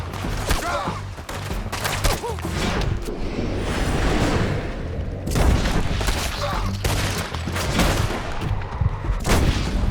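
Repeated gunshots and booming blasts in a Red Dead Redemption 2 firefight, loud and dense across the whole stretch, with shouted voices mixed in.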